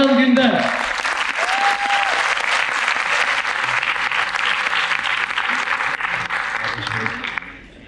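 A theatre audience gives loud, sustained applause for a stage designer being introduced at a stage-design event, a steady wash of clapping with a brief voice at the start, fading near the end.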